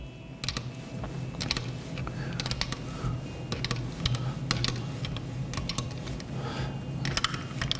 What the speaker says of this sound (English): use my 13 millimeter open end wrench here to draw the bearing out of the non-drive side of this hub shell